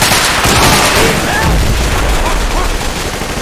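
Dense, continuous gunfire from the video game Insurgency, loud and sustained with rapid overlapping shots and booms, no clear pauses.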